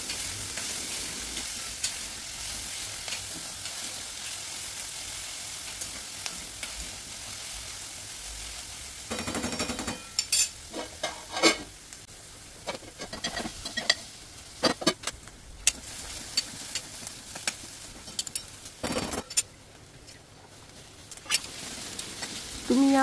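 Onion and potato fry and sizzle in a pan for an ivy gourd (tondli) vegetable dish, a continuous crackling sizzle with intermittent clanks and scrapes of stirring from a spoon against the pan.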